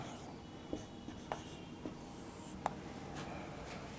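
Pen scratching Urdu letters onto paper during handwriting practice, a quiet run of short strokes and taps spaced irregularly, close and faint with no talk.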